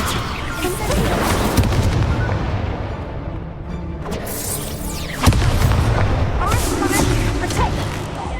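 Spell blasts in the Hogwarts Legacy video game, a dense run of loud booming bursts and crackling impacts, one sharp hit standing out midway, with speech mixed in.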